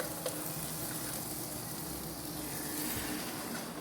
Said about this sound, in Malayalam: ഈ സ്പൈസി ചിക്കൻ മസാല ഇടാൻ പോവാണ്. നന്നായിട്ട് ഇളക്കണം.